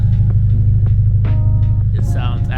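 A Subaru BRZ engine fitted with unequal length catted headers idles with a deep, steady, throbbing exhaust rumble close by, while faint higher clicks and noises sound over it.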